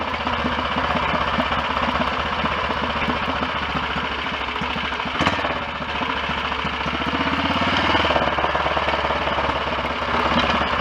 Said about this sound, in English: Engine seems to run nice enough though.